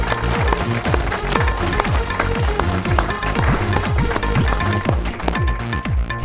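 Audience at a quiz show gives loud, enthusiastic applause, dense hand clapping sustained throughout, close and full, with no talk over it.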